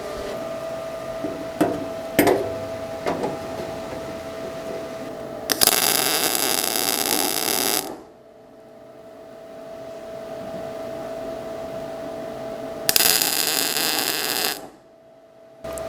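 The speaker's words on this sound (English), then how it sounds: "let's get these tabs welded and see how this shit goes" Welding tabs onto a Mini Cooper fuel rail, with two sustained bursts of harsh, crackling arc hiss, each lasting a couple of seconds, separated by quieter pauses and a few sharp clicks at the start.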